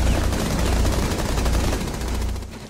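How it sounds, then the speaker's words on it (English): Sustained automatic gunfire from the Rainbow Six Siege video game, Operation Velvet Shell, with rapid, dense bursts that are loud and continuous throughout and a slight drop near the end. "That horrible shooting."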